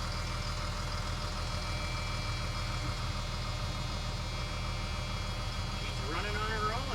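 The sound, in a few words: abandoned RV engine idling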